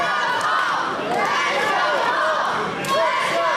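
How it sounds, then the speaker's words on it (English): Wrestling crowd at an indoor show chants in support of a veteran wrestler, a loud rhythmic chorus of many voices with general crowd noise beneath, rising slightly near the end. "the crowd with the Let's Go Paul chant showing support for the veteran"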